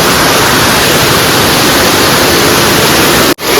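Dense, constant rush of flowing river water, loud and close, filling the whole clip before cutting out abruptly near the end.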